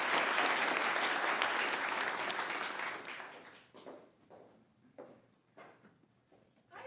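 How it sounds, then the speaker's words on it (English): Applause for a panel at a business event fills the first three seconds as a loud dense crowd ovation, then fades into a few scattered knocks and footsteps in a quieter room. "Let's have a big round of applause for our panel."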